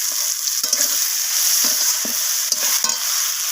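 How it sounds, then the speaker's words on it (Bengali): Beans and spice powders—turmeric, red chilli and cumin—are stirred in a hot frying pan for a fish curry, giving a steady sizzle broken by several scraping strokes of the spoon, close and loud with no voices. "তো সব কিছু মশলা দিয়ে একবার নাড়িয়ে নিলাম।"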